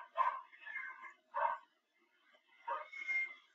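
A puppy in the Barbie Pet Rescue video game barks and yips in four short bursts with brief gaps, clear and close with no talk over it.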